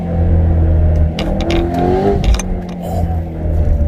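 A supercharged BMW E92 M3 with an ESS G1 kit, running an E85 ethanol blend on a rainy road, accelerates hard: a loud, continuous engine roar with a rising whine throughout.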